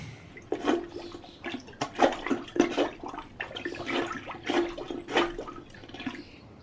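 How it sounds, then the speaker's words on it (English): Plunger working a clogged toilet, with repeated wet plunging and gurgling water bursts in an uneven rhythm, close and fairly loud, no talking. "Let me just get my plunger."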